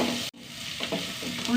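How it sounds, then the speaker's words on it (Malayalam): Onions fry in a pan with a continuous sizzle, broken by a few scraping strokes of a spoon stirring them, heard close and without talk. "ഉള്ളി മൂത്ത് വന്നു."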